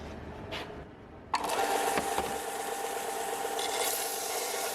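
A power tool cuts through an old steel exhaust pipe on a Toyota Starlet turbo install, starting with a sharp bite and then a continuous harsh grinding rasp after a quieter lead-in.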